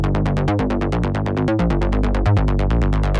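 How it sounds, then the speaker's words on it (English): A dry, full Arturia OP-Xa V software synthesizer, emulating a classic Oberheim, plays steady rhythmic chords, pulsing repeatedly with rich low harmonics and a few deeper bass hits, no other sounds. "For the main synth, I used Arturia's OP-Xa V,"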